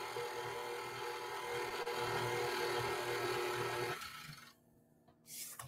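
An electric mixer blends cake batter for a Cookie Monster cake, a steady loud whirring motor drone that runs for about four seconds, then cuts off and leaves quieter rattling and a brief scrape.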